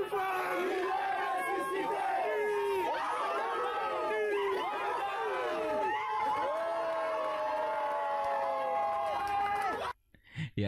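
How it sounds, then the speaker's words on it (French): A large crowd of supporters chants victory songs in unison outside a home at night, loud and sustained with many overlapping voices, then cuts off abruptly near the end. "Ils scandent de chants de victoire"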